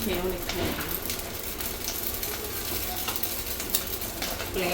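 An onion dosa sizzles steadily on a hot pan, with a continuous crackling hiss of frying batter and a few faint stirring or scraping touches beneath it.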